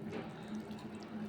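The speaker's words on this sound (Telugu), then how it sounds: "మనం ఇందాక తీసుకున్న శనగపిండిలో కొంచెం వాటర్ వేసుకొని" Water is poured into gram flour while making onion curry, a soft steady trickle that is faint and close, with no talking.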